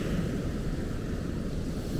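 Steady wash of surf rolls onto a flat, quiet off-season beach, a continuous broadband roar mixed with wind buffeting the microphone, with no voices.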